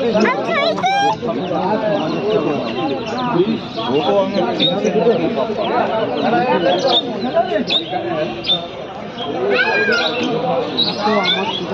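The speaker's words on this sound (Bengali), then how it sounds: "এখানে মুরগি" Chickens cluck and chatter steadily throughout, close and fairly loud, with a few high chirps from quail chicks and people talking over the flock.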